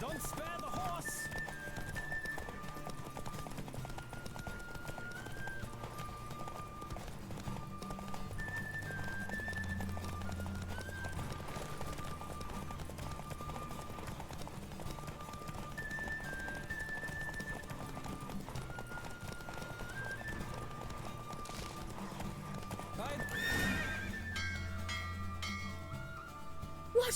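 Horse hooves clip-clop steadily through a race in The Witcher 3, with a neigh near the end, running under a continuous music bed and intermittent talk.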